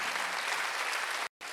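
A church congregation applauds during a Sunday worship service: dense, steady clapping fills the room for over a second, breaks off abruptly, then picks up again briefly.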